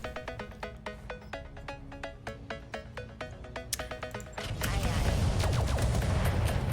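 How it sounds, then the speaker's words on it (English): Mech weapons in RogueTech, a BattleTech mod, fire in a rapid, evenly spaced stream of sharp reports, then give way to a loud sustained roar of heavier barrage and explosions. "Do a nice little drive-by shooting over here"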